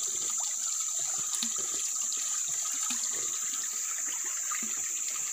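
Sompoy river flowing in a Dayak forest area in Indonesia, a steady rushing wash of water with a bright hiss and scattered splashes, continuous and fairly close, with no talking.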